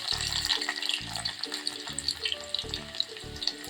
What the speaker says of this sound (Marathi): लसूण पोळतोय तोपर्यंत आपण यामध्ये थोडीशी हळद घालून घेते